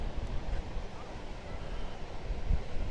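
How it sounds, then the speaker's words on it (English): Atlantic Ocean surf at Smith Point, Long Island, with onshore wind buffeting the microphone, a steady low rumbling wash of waves and gusty roar throughout, no voices. "the waves are significantly higher than they were yesterday, although there wasn't much of a wind as there is today"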